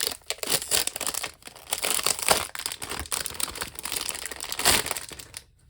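Crinkly plastic packaging torn and crumpled while opening thread sorters for cross-stitch, close and busy rustling throughout before stopping abruptly at the end.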